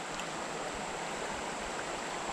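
Small Georgia creek flowing steadily, a soft continuous babbling rush heard close by and alone, with no voices.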